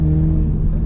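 A race car engine roars at high RPM on a track, a loud, sustained, steady drone of strong low tones lasting about a second.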